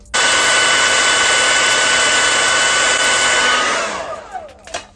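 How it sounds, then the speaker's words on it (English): A Conair 875 blow dryer runs on its cool setting with a loud, steady whoosh that stays even for about four seconds, then cuts off and fades out. A few faint knocks follow. "I'm using this Conair 875 blow dryer"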